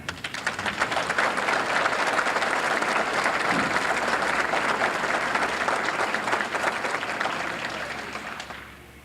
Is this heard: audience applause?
yes